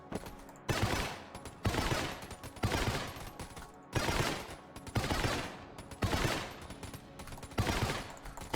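Repeated loud bursts of rapid video-game gunfire from mega shots in Enter the Gungeon, firing in clusters about every second with brief lulls between volleys, close and dominant with no voices.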